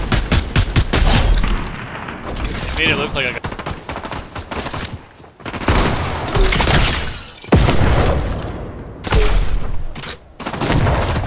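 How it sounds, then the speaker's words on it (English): Near-constant gunfire and explosions fill a Fortnite Chapter 4 Season 4 battle royale match, with dense rapid bursts, sharp blasts and shattering debris. A player talks over the action. "Double explosion."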